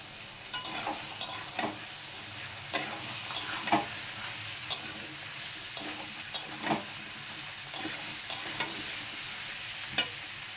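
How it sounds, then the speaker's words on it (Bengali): Potato pieces fry with loitta fish and spices in a pan, a soft steady sizzle broken by about a dozen sharp scraping stirs at an uneven rhythm, close and without talk. "এখন এর মধ্যে দিয়ে দেবো আলুটা এটার সাথে একসাথে আলুটা ভাজবো"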